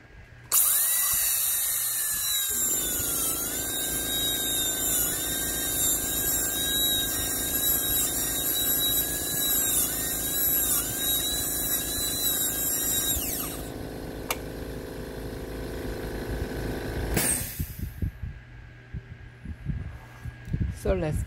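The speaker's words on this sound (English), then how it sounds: "holding this handpiece to safely drill the tooth." A dental handpiece drills a mandibular first molar for a Class II MOD cavity preparation, its high-pitched whine running steadily for about thirteen seconds before stopping, with fainter handling noises after.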